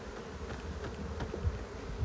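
Honey bees swarm around an opened hive, their steady, dense buzzing close and continuous with a few louder low swells, no voices.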